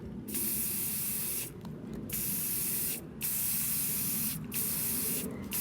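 Spray paint hisses from a can onto flowers in several bursts, each lasting one to one and a half seconds, separated by short pauses, close and fairly loud.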